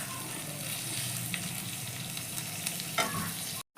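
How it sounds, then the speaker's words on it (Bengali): Onions frying on a high flame for Kolkata-style chicken kosha, a close, continuous sizzle with stirring scrapes and a brief clatter near the end before it cuts off. "পেঁয়াজটাকে এবার আমি হাই ফ্লেমে সুন্দর করে"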